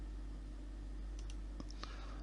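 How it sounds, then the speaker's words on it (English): A few sharp computer mouse clicks, right-clicks to open an indicator list in forex trading software, come in a quick pair and then scattered singles over a faint steady hum. "You just go to indicator list by right clicking your mouse."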